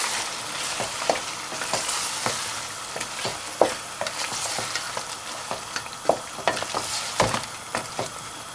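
Spices with cumin powder, salt and garam masala frying in a pan for rabbit curry, a busy sizzle under repeated sharp scraping strokes of a spoon being stirred, close and fairly loud, no voices.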